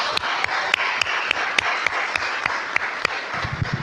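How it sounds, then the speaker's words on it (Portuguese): A church congregation applauds with rhythmic, evenly spaced claps cutting through a steady background of clapping, loud and close, with no talk. "Aplauda o Senhor, glória a Deus."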